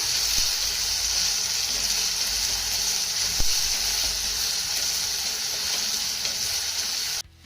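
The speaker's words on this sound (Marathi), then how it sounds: "यामध्ये ना आपल्याला एक बारीक चिरलेला टोमॅटो घालायचा आहे. आता हा देखील चांगला मौसूद होईपर्यंत परतून घेऊया" Finely chopped tomato and onion sautéing in a pan, a loud continuous hiss and sizzle close up with a few light knocks of stirring, running steadily until it cuts off near the end.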